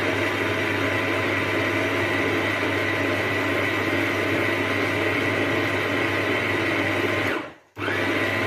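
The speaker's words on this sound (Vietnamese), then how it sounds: "Bây giờ mình sẽ xay." A blender grinding a vegetarian meat mixture runs as a loud, steady motor whine at close range, then cuts out briefly near the end and starts up again, with no talking over it.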